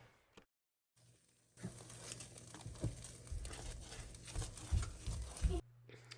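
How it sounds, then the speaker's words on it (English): Eggs being stirred and scrambled in a pan, soft irregular scraping and crinkly sizzle after a short silent gap, fairly faint and close. "I'm just going to add my eggs and scramble them up"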